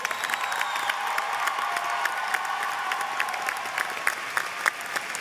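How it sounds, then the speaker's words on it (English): A large audience at a 2014 community college commencement ceremony applauds steadily, with dense sustained clapping and a few scattered cheers rising near the end. "Can we give them a round of applause?"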